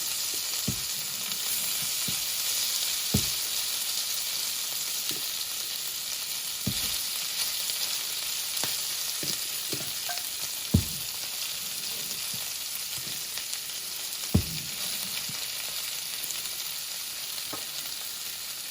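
Crispy Kapampangan-style pork sisig fries in a hot pan with a steady, dense sizzle throughout, broken by occasional sharp pops and crackles of spattering fat.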